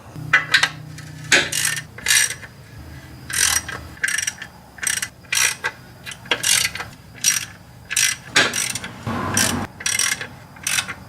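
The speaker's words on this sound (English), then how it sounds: "Be careful when you're using a torque wrench." Repeated bursts of close mechanical ratchet clicking as a torque wrench tightens clutch bolts, each burst short and sharp with brief gaps between strokes and no talking.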